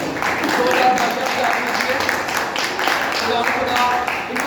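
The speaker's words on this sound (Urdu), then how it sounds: "آئے ہم پاسٹر لیاس صاحب کے لیے زوردار جو ہے وہ تالیاں بجائیں" An audience gives loud, sustained applause for Pastor Ilyas, a dense wash of clapping that fills the room without a break.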